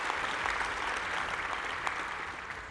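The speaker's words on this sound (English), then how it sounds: "Round of applause for Debbie Hines." An APA conference audience applauds a speaker with a dense, even wash of clapping from a large room, sustained and moderately distant throughout.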